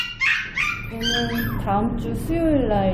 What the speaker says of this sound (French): de petits chiots clonés, nés il y a quelques jours, gambadent autour de leur mère porteuse